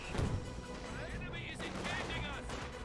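Distant gunfire in Company of Heroes 2 sounds in repeated cracks, including machine-gun bursts, mixed with battle noise, while a commentator talks over it.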